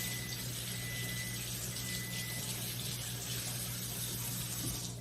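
Hands being rinsed under a running kitchen tap make a faint, steady stream of water splashing into a sink, continuous throughout with a low background hum.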